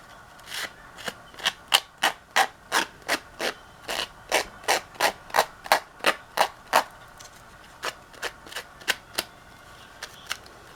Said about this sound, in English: So I just lightly try to sand it across as much as I can.